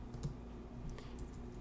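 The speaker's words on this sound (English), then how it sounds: "I'll zoom in by pressing the plus sign on my keyboard" Computer keyboard keys are pressed in a few quick, soft clicks, faint against a low steady hum.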